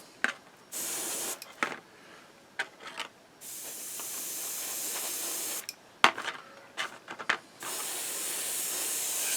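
An airbrush sprays a thin coat of paint on a 1/35 scale Panzer III tank model, giving repeated bursts of close airy hiss of varying length separated by brief pauses and small handling clicks.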